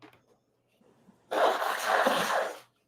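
A single loud, close sneeze bursts out after a faint breathy intake, then silence.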